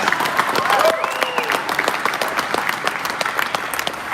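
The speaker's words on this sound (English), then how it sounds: "Oh no, go ahead and clap." A live audience at a Star Citizen event applauds with continuous clapping that stays fairly loud and dense throughout, with some faint crowd murmur underneath.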